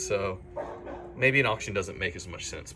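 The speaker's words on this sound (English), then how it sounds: "sorry about the dogs making so much noise over there" Dogs barking in neighborhood backyards, repeated yapping and whimpering barks in the background, mixed under a person talking throughout.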